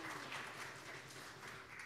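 A church congregation applauds, a dense, even wash of clapping from many hands heard at a moderate distance and fairly faint, continuing steadily throughout without a break.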